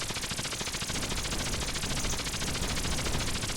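Rapid gunfire from the video game Generation Streets, a dense, continuous stream of automatic shots with no pauses, loud and steady throughout, with no talking.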